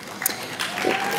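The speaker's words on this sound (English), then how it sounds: "That's worth applause" A conference audience at an NCDA opening session bursts into brief applause, a short patter of many hands with a faint voice over it.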